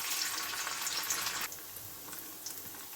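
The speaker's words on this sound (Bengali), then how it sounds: "আমি এবারে পনিরটাকে হালকা লাল করে ভেজে তুলে নেব।" Paneer frying in hot white oil in a wok: a bright, dense sizzle that drops abruptly halfway through to a quieter crackle with a few faint pops, heard without any talk.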